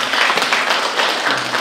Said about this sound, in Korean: 박수를 한번 칠까요?